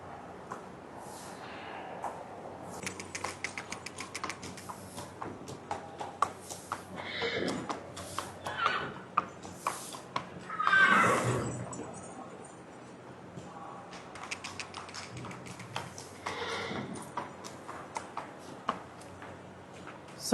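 A trained mare at a stud farm shifts about, with scattered hoof clops and ticks, a few snorts and neigh-like calls, and a louder whinny near the middle, all fairly quiet and close.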